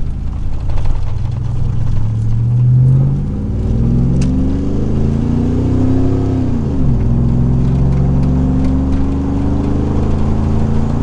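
A 2000 Chevrolet Silverado with the 4.8 V8 and a Magnaflow-style dual exhaust revs loudly up and down, its deep engine note rising in pitch and then falling back to idle, close and continuous.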